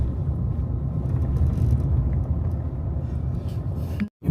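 Steady low rumble of road traffic on a busy highway leading to Dharmasthala, heard from a moving vehicle as a continuous drone, cut off abruptly near the end.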